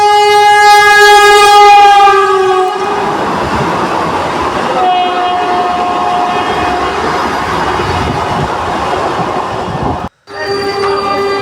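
A Vande Bharat Express train rushes past at speed, its loud horn blaring at the start before a sustained roar of wheels and carriages rumbles on, with a brief dropout near the end and horn tones returning.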